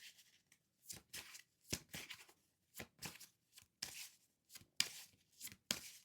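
Tarot cards are riffled and shuffled in a series of brisk, crisp bursts with short pauses between them, close and fairly quiet, without any talk.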